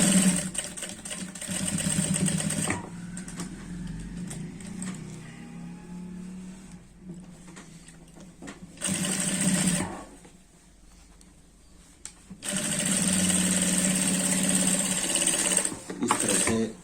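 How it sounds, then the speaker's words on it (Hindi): A sewing machine runs steadily while stitching a waistband belt onto trousers. It makes loud stretches of continuous motor whir and needle chatter, with a quieter, slower middle section and a brief lull before the machine speeds up again. "इस तरह से सिलाई लगानी है।"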